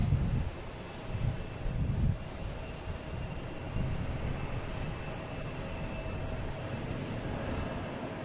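An American Airlines Embraer E175 jet arrives at Boston Logan, a moderate, steady engine rumble with a few low thumps at the start and no voices.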